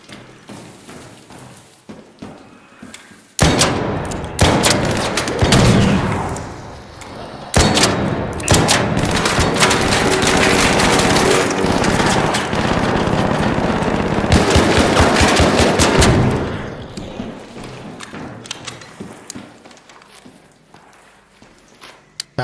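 Automatic gunfire blasts away at turrets in the ARC Raiders video game, loud sustained bursts broken by short pauses, with thumps and footsteps around them.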